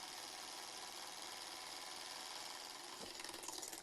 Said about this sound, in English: This engine, as you can see, is running very fast